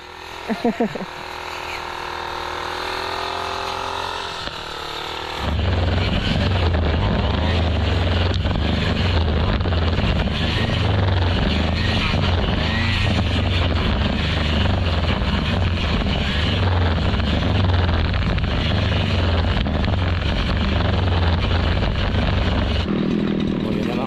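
A grass cutter engine drones loud and steady close by, with a raspy buzzing tone and wind rumble, after a brief stretch of talk at the start.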